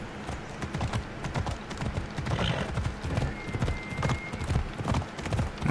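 Horse hooves clip-clop at a steady riding rhythm in Assassin's Creed Odyssey, close and continuous over a background of ambient game sound.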